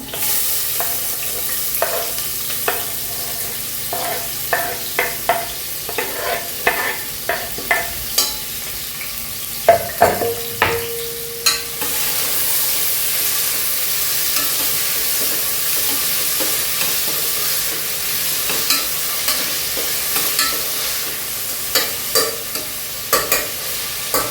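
Onion and tomato fry in a pan with a constant sizzle while a spoon stirs and scrapes against the metal in repeated clinks and knocks, heard close up and with no talking.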